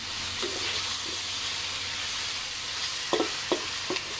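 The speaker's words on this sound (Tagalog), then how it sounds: "I fry in a slow fire with the oil little bit" Fish head frying in a little oil over a low flame, giving a steady soft sizzle throughout with a few short sharp spits and pops near the end; no one speaks.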